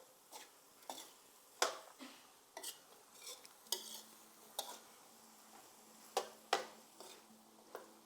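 A utensil stirs stir-fried beans in a pan, giving a faint series of soft clacks and scrapes at an uneven, unhurried pace over a quiet sizzle, with no talking.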